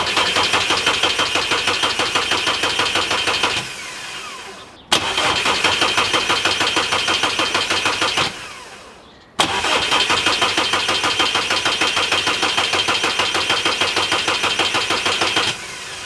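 An Audi 2.0 TDI diesel engine cranks over and over in three long starting attempts, each a steady rhythmic churn lasting about four seconds before cutting off, with brief pauses between; loud and close, no voices.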